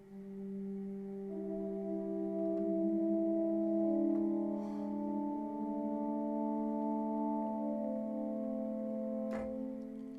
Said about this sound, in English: Take this, for instance, this horn patch. You could play it like this.